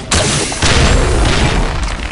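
Loud gunfire from Counter-Strike Nexon in the Zombie Hero mode, with a sharp booming shot near the start and a second heavy blast about half a second later, each trailing into dense, noisy game sound.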